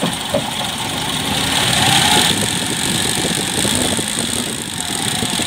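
Mitsubishi 3G83 12-valve carbureted engine in a multicab running without its valve cover, idling steadily with a mild rise in revs near the middle, a close, even mechanical hum without voices.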